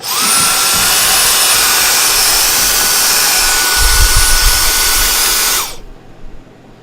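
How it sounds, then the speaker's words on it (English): A small Dyson handheld vacuum whines at a steady high pitch close by for several seconds, then shuts off and winds down into quiet room noise. "This is the little Dyson handheld."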